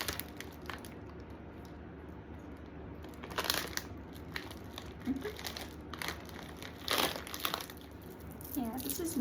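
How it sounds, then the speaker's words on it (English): Root beer barrel candies being unwrapped for a candy salad, their plastic wrappers crinkling in repeated bursts of rustling, close and fairly loud, with quiet talk in the background. "this is me unwrapping all of these root beer jugs and just unwrapping them so we could put it into our candy salad"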